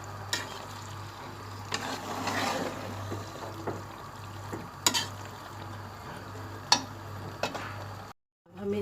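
Chicken macaroni being stirred and mixed in a pot, with scraping and clinking of a spoon at intervals over a faint sizzle and hum, ending in a brief silence.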